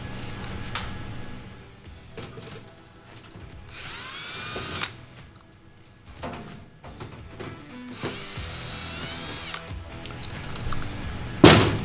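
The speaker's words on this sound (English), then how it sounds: "To access those, remove the 2 screws on the grate." Screws are backed out of the grate on a Wells ventless kitchen hood with a power drill, giving two loud whirring bursts of a few seconds each, separated by quieter handling clunks and ending with a sharp metallic rattle.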